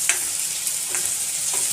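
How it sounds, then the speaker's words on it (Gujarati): Bitter gourd, onion and green chillies sizzle steadily in a pan, with a spoon scraping through them in a few quick strokes over the constant frying hiss. "અને ચમચા વડે તેને હલાવી દેવાના છે।"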